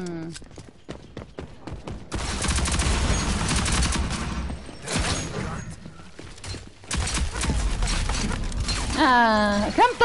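Bursts of rapid gunfire in the video game Rogue Company, loud and sustained with brief pauses, talk mixed in at times.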